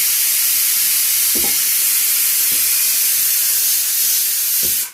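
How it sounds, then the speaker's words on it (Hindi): Gas stove burning after being lit, giving a loud, steady broadband hiss with a few faint low thumps beneath it, ending abruptly. "ने चूल्हा चालू हो गया"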